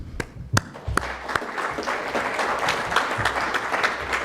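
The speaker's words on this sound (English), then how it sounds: "welcome her with a great round of applause" Applause for a keynote speech at the Center for Strategic and International Studies starts with a few sharp claps and swells into steady clapping from an audience, continuing evenly throughout.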